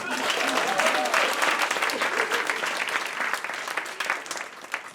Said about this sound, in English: Alright, round of applause for this guy